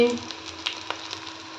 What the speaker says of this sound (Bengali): এই যে দেখো ফুলকপির পকোড়া ভাজছি